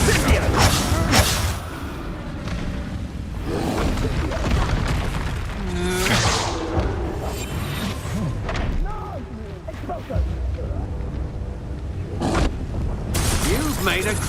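Fire spell Incendio cast in the Hogwarts Legacy video game amid a busy duel, with repeated loud bursts and crashing impacts layered over game voices and dense effects.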